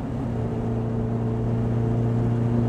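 A 1970 Porsche 914 cruising on an open road, its engine holding a steady low drone with a constant hum and road noise throughout, no speech.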